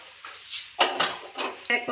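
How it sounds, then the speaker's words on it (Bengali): A wok is set onto a home kitchen stove while mustard hilsa with potatoes is being cooked, producing a few sharp metallic clanks and scrapes in quick succession against quiet background. "কড়াইটা বসাবো।"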